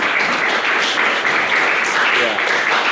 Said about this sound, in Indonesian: Oke ya, aplaus buat beliau,